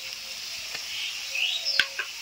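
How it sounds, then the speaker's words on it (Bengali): Onions fry in oil with a soft, steady sizzle, joined by a few faint sharp clinks and squeaks near the end, and no voices. "পেঁয়াজটা আমার একটু লাল লাল করে ভাজা হয়ে গেছে।"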